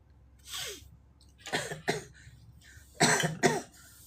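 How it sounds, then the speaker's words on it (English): Several separate coughs, a single one first and then pairs of quick harsh coughs close to the mic, with quiet gaps between. "I'm sorry, I still have a little bit of coughing going on."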